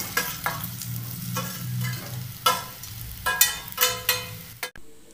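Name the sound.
potatoes sautéing with masala in a pan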